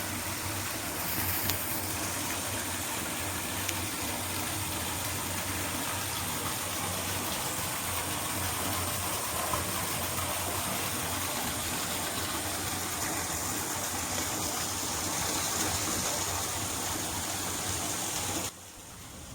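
Water flows down the hillside rocks at a waterfall near Sathupalli, making a loud, steady, unbroken rushing roar that holds for the whole stretch and is heard alone without voices.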